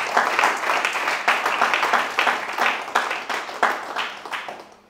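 A church congregation claps together to acclaim the Lord, a loud, fairly rhythmic burst of applause lasting several seconds.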